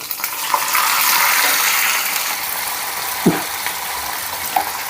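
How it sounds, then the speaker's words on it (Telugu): Curry leaves sizzle in hot oil as a tempering for pulihora, a continuous close crackling fry with a few sharper pops and spatters and no talking. "ఇప్పుడు కరివేపాకు కూడా వేస్తున్నాను అనమాట"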